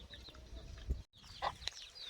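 Village free-range chickens on a farm cluck softly close by, a few short calls over a low background hum.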